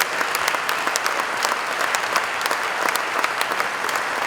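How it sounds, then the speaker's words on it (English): Roughly a thousand alumni at a military college centenary celebration clap together in a dense, steady round of applause that runs throughout, with no speech over it. "Let's clap for ourselves."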